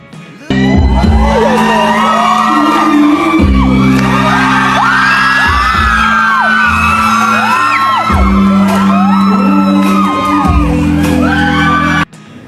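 A studio audience screams and shrieks nonstop through a song performance on the noontime show It's Showtime, loud cheering over a pulsing backing track that cuts out at the end.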